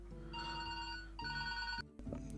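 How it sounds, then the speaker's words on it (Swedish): A telephone rings twice with an electronic tone during a telemarketer's call, fairly quiet, then it is cut off abruptly. "jävla telefonförsäljare som ringer och skit"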